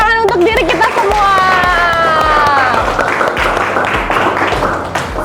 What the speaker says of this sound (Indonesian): Oke, kalau gitu kita beri tepuk tangan untuk diri kita semua.